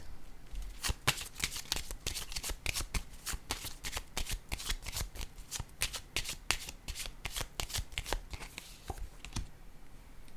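Cards being shuffled for a card reading, close and crisp, with rapid repeated riffling bursts in a steady rhythm lasting throughout and no talking.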